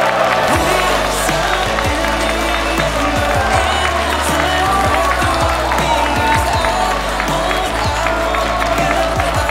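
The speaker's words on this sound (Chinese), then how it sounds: "掌声鼓励" Applause from a crowd at a wedding as the bride and groom enter, a dense, steady wash of clapping and crowd noise mixed with background sound, loud and continuous.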